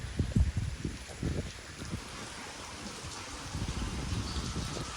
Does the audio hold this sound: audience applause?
no